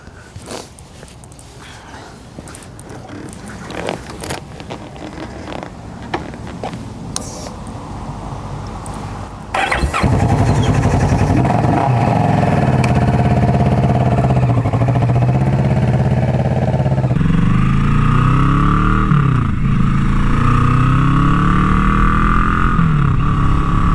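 A Kawasaki Vulcan S motorcycle fires up halfway through, then settles into a steady, loud engine drone with rising and falling revs as the bike pulls away and rides on, preceded by quieter handling and movement noises.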